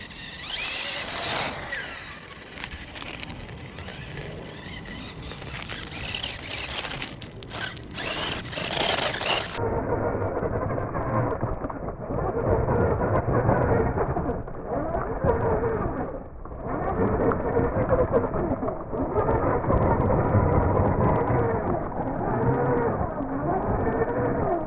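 Tamiya Sand Scorcher RC buggy on a test drive, its motor and gears giving a continuous ratcheting whir that surges and dips with throttle, close by, brighter and harsher at first before turning muffled.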